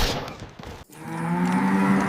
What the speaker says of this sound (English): He's a cow?